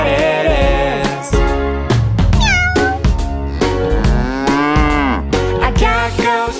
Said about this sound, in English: A cow goes moo, moo, moo.